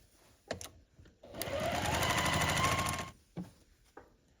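A sewing machine stitches medium fabric squares onto background strips for scrappy sampler quilt blocks, running in one steady buzzing burst of about one and a half seconds, with soft handling clicks and thumps before and after.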